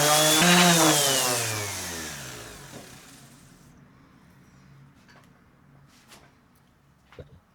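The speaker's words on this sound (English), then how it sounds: "It's taking a bit of effort to sand it down" Power sander fitted with P80 80-grit paper working on a sailboat's hull: a loud whining drone for the first few seconds that winds down and fades, followed by scattered faint scraping and knocks in a quiet space.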